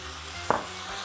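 Noodles with bean sprouts and sesame hiss in a hot wok, one quick toss or stir landing as a short scraping burst over a steady sizzle.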